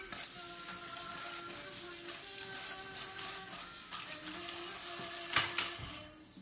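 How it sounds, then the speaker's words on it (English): Onion, garlic and bay leaf sauce is stirred steadily in a pan, a continuous close sizzle and hiss with soft scraping strokes and a couple of louder utensil knocks near the end. "You got to stir that sauce constantly."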